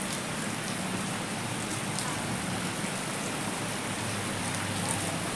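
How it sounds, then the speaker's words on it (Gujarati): Steady rain falls outdoors during a morning run, a dense, even hiss of drops on surfaces heard close by without a break. "તમે જોઈ શકો છો વરસાદ ચાલુ થઈ ગયો છે"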